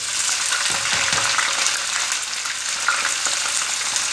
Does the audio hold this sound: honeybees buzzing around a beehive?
no